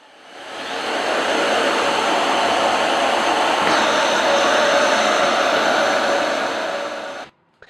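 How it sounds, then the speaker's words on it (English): A power drill boring pocket holes in wooden cabinet pieces in a woodworking shop, one sustained whirring run of about six seconds that rises, holds steady and cuts off abruptly. "now I can start putting in the pocket holes on all of the cabinet pieces"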